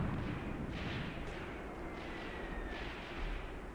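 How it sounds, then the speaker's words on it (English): Russian artillery fire in Graviteam Tactics, set around Kharkov in 1941, forms a steady, dense rumble of distant blasts with a few faint booms rising through it and no clear pauses. "Russian artillery fire is following them, though."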